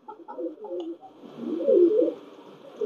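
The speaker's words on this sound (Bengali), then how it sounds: "এটা আমার লম্বা ঠ্যাংওয়ালা যে টেডি কবুতর, সেই টেডি ব্লাড লাইনের কবুতর" A long-legged Pakistani Teddy pigeon of Teddy bloodline cooing close by, a few soft chuckling notes swelling into a fuller, louder coo, heard alone in a quiet space.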